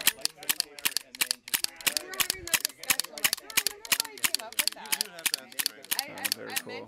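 Rapid, evenly spaced mechanical clicks from a shotgun's auto trigger mechanism cycling repeatedly, close and crisp, with voices talking underneath.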